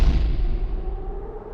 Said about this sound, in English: The torch echoed as it ricocheted down the hole, punctuated with a thunderous thud.